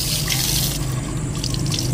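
Filtered water pouring steadily from a water filter into household vessels in a village home, a continuous close splashing stream with no talking.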